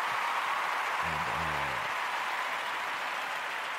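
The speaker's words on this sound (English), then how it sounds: "I'm gonna give myself a round of applause for being an upstanding adult" A long stretch of canned applause is played as a sound effect on a podcast, a steady, even wash of clapping throughout with a brief low voice murmuring underneath partway through.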